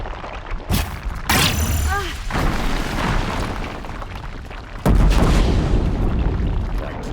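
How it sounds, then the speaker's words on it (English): Booming explosions from combat in the video game Horizon Zero Dawn The Frozen Wilds, loud and continuous with a heavy blast near the end, under game voices. "Yeah, keep exploding."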